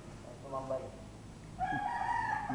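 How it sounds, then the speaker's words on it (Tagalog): A rooster crows once, loud and drawn out, after some faint clucking in a quiet outdoor setting. "Ayan, may mga manok dyan sa gilid."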